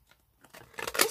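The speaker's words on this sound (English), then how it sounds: "these are the wave scissors" Wave-edged craft scissors snip through paper in a few short crisp cuts, quiet at first then louder, with light paper rustling.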